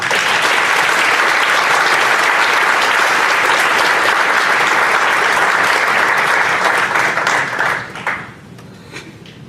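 Sustained loud applause from a conference audience at the EFMA 2017 annual meeting, welcoming the keynote speaker, dense steady clapping that fades out near the end.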